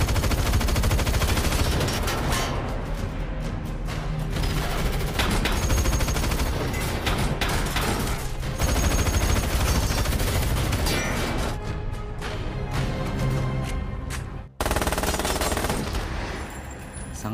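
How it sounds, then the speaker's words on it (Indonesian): Machine gun fire rips through a film action scene in dense, rapid bursts, loud and sustained with a short pause near the end. "Kemudian Hill muncul dan menghujani mereka dengan peluru."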